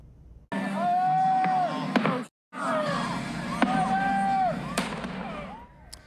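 Fireworks crackle and burst repeatedly over a crowd's loud cheering and shouting at a peach festival, with sharp pops and a brief pause midway.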